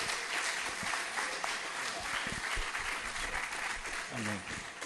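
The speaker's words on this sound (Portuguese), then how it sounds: "Aplauda o Senhor Jesus" A church congregation applauds during a Portuguese-language worship service, a dense, even wash of clapping at moderate distance lasting a few seconds, with a voice speaking over it near the end.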